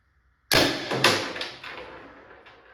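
A modified Tippmann TMC paintball marker with a Delrin bolt, drilled valve, shims and lightened parts fires two sharp, close shots about half a second apart, each cracking with a fading echo.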